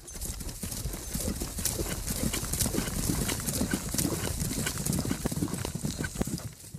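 A large company of horses with riders galloping, a continuous dense clatter of hooves at moderate loudness, with an occasional whinny and no talking.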